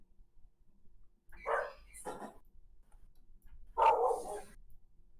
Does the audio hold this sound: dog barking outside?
yes